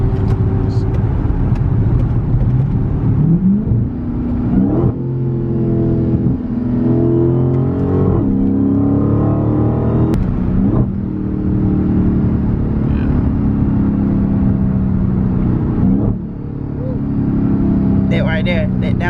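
Dodge Challenger Hellcat with a mid-muffler delete roaring under load, heard from inside the car, with its engine note swelling and dropping through a downshift and someone talking over it throughout.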